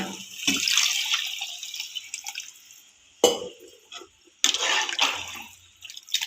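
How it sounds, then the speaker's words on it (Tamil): Water pours into a pot of chicken curry in a home kitchen, a splashing hiss in two or three bursts with brief pauses between, close and fairly quiet, without talk. "தண்ணி ஊற்றி நல்லா கிண்டி விட்டுக்கிடுவோம்"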